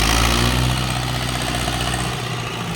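A Ford 7710 four-cylinder farm tractor engine idles nearby with a steady low rumble, loud and continuous with no voices.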